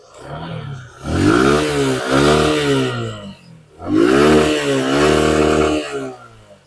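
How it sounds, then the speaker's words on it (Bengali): A 2022 Suzuki Gixxer 155cc motorcycle engine is revved twice at close range, each rev rising from idle to a loud, sustained, slightly wavering roar before dropping back. "এই যে দেখেন গাড়ির সাউন্ড"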